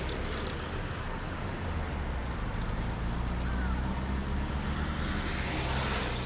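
Steady road traffic where crows drop nuts to crack them, a continuous loud rumble of passing cars and buses with low engine drone throughout and no pauses.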